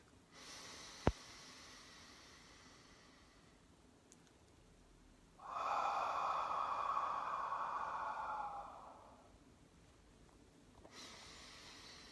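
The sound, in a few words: deep breathing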